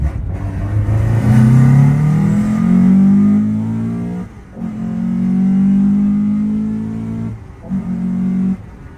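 Toyota GT86 with a naturally aspirated 2-litre FA20 engine revving hard, three long climbing pulls close by, each rising in pitch and holding before a brief drop, with no talk over it.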